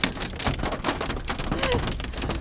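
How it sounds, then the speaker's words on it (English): Hail falling in a passing hailstorm, a dense, steady patter of pellets striking surfaces nearby with continuous irregular clatter and no voices. "we got a little hailstorm coming in"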